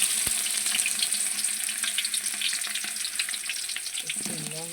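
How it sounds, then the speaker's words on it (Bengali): Onions fry in hot oil in a pan on a home stove. The sizzle is a steady, close crackle throughout, with no talking. "তেল গরম হচ্ছে, পেঁয়াজ দিয়ে দিব এখন।"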